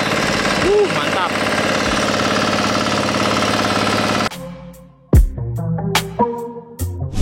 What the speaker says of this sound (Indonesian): Rotari akan mencangkul lebih dalam.